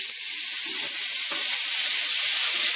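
Garlic and sliced onion half-rings frying in a skillet give off a steady, close sizzle with a few faint stirring clicks and no voices.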